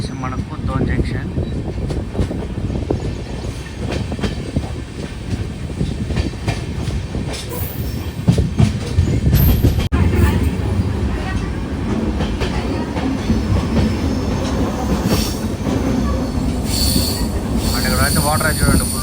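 Kacheguda–Mangaluru Central weekly SF Express train rolling out of Kurnool City station, a steady close rumble with rail clatter and occasional wheel squeal, heard from inside the cab, with people talking throughout.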